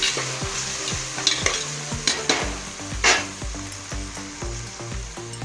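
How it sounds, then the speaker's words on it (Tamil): Chili powder frying in hot oil for curry, a loud continuous sizzle with brisk, repeated scraping and clinking of a spoon stirring against the pan, close up and without talk. "குழம்பு மிளகாத்தூள் எண்ணெயிலே புரியுற மாதிரி வறுத்தால் தான் நல்ல கலர் வரும்"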